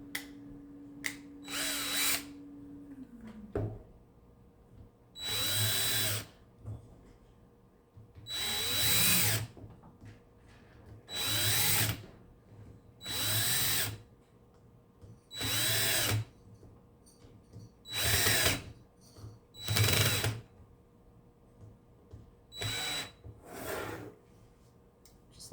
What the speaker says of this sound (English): I'm going to screw them in just a little bit, each one as I go around,